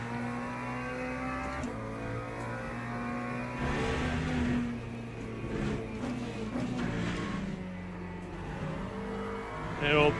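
Hypercars passing in a racing video game at Silverstone, sustained engine drone with rising and falling revs as cars sweep through, moderately quiet under the steady game mix.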